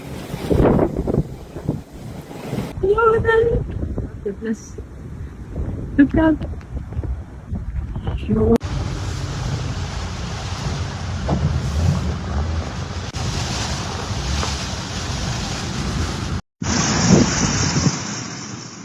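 Storm winds of around 100 km/h and flooding in Cape Town, South Africa: loud, sustained roaring wind and rushing water in several abruptly cut segments, with people exclaiming over the noise early on.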